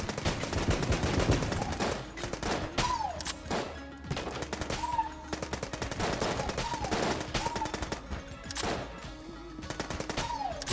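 Machine pistol gunfire in Enter the Gungeon: rapid bursts of sharp shots repeating through the whole stretch, mixed with chirpy game effects and music.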